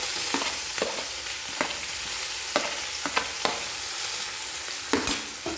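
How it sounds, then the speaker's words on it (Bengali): Chopped onion fries in a pan of oil with black cumin seeds and chopped green chilli, a steady sizzle broken by sharp scraping clicks of a spatula stirring at irregular intervals. "তেলে পেঁয়াজ একটু নাড়াচাড়া করে নেব, হালকা লাল করে ভেজে নেব।"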